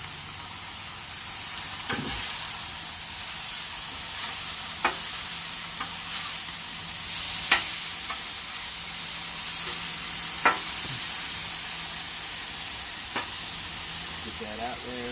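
Beef burger patties in a pan just after flipping, giving a steady close sizzle with occasional sharp pops and clicks from handling, with a voice speaking at times.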